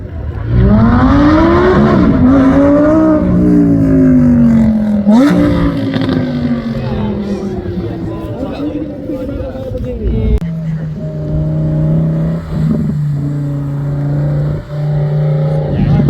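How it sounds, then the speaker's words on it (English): A 2024 Lamborghini roars past at a rolling exhaust competition at an import and performance car show, its exhaust rising in pitch as it revs, then easing to a steady drone, loud and close with crowd noise and an announcer's voice. "next up we have David Jurek in his 24 Lamborghini"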